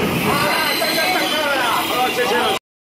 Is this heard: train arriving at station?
yes